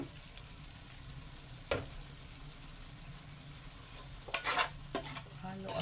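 Adobong kangkong is stirred in a pan, giving a faint, quiet sizzle broken by a single clack and a short burst of scraping strokes near the end.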